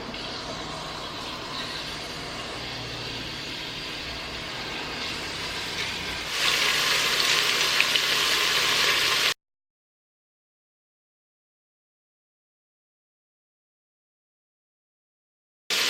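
Highway traffic rumbles outside a home kitchen as a continuous broadband roar that swells louder partway through, then cuts abruptly to silence.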